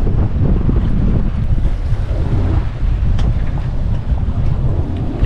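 Steady, loud wind buffets the microphone on a drifting fishing boat at sea, a continuous roaring rush with faint water slaps underneath and no talk.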